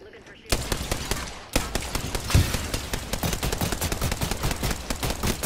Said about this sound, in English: Crazy fireworks going on here.